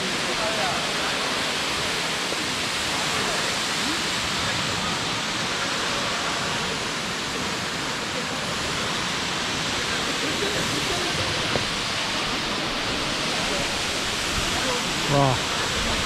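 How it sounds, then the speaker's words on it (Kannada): Koodlu Theertha Falls, a tall waterfall seen on a morning trek, gives a steady broadband roar of falling water that stays constant and fairly close throughout, with a brief faint knock near the end. "ನೋಡಿ ಇದೆ ಕೂಡ್ಲು ತೀರ್ಥ ಫಾಲ್ಸ್. ನೋಡಿ ಎಷ್ಟು ಹೈಟಿನ ಬೀಳ್ತಾ ಉಂಟು."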